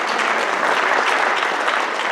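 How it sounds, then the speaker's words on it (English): A crowd at a community service awards evening applauds steadily, a dense wash of clapping that stays loud and even throughout. "We'll clap for him even though he's second."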